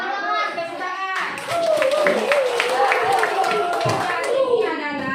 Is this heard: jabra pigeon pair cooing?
no